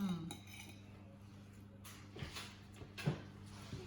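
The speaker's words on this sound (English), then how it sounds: "Gonna stir it in." Salad being stirred with balsamic vinegar, quiet clinks and scrapes of cutlery against a bowl, a few soft taps in a calm kitchen.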